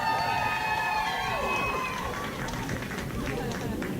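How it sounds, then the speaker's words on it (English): Crowd at a live poetry and MC event breaks into cheering and clapping, a dense steady roar of applause filling the room throughout. "Could I please have a round of applause for my boots?"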